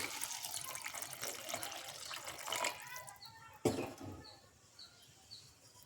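Water being poured into a pan of leafy greens gravy, a close splashing and gurgling stream that stops partway through, followed by a sharp clatter and quieter kitchen sounds.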